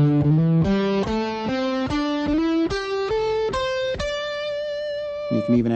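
An Ibanez electric guitar with a distorted, effects-laden tone plays a full scale as a quick run of about a dozen picked notes climbing and falling, ending on a longer held note before a final short flurry, loud with no talking.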